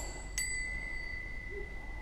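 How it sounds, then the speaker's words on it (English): Brass wind chimes give a single clear, bright strike that leaves a long, thin sustained ring fading slowly over a quiet, faintly noisy background. "Couple of neat wind chimes."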